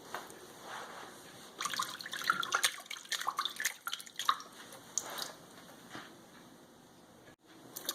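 Water drains out of a sink after silk fabric has soaked in a dye-set concentrate, with quiet trickling and scattered drips and splashes clustering in the middle, then tapering off, close by and with no talk.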